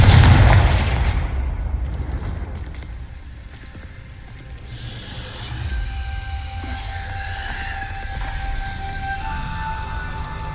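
Confringo fire spell cast in Hogwarts Legacy, a heavy booming blast at the start that rumbles and fades, followed by low ambient game rumble and faint tonal hums.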